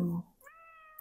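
A pet cat named June gives a single clear meow after a brief low hum at the start, close and fairly quiet, alone without talk.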